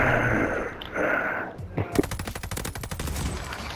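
Loud gunfire in a shooter video game: a sharp blast, then a rapid train of punchy shots in quick succession, with players talking over them.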